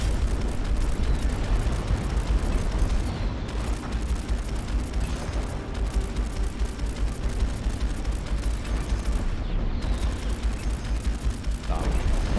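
Explosions destroy a flak turret in the space combat game Strike Suit Zero: a dense, continuous roar of blasts and rumbling booms, loud throughout with no quiet gaps.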